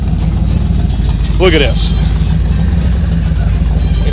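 A 1968 440 V8 stroked and bored to 472 cubic inches idles with a steady, loud, low rumble at a street car gathering in Tolleson, Arizona. Someone speaks briefly over it.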